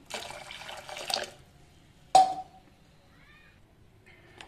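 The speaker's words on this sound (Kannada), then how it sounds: "ಸ್ವಲ್ಪ ಬೇಳೆಗೆ ಬಿಸಿ ನೀರು ಹಾಕೋಣ." Hot water pours into a pot of cooked lentils for a sambar, a steady splashing stream for about a second, followed by a sharp clink and a brief settling ring, then quiet.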